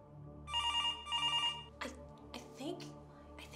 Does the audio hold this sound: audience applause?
no